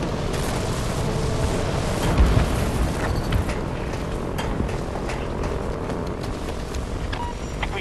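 A grenade blast rumbles in Battlefield 2042 amid continuous loud battlefield noise, a dense roaring wash with a heavier low boom around the middle, no clear speech.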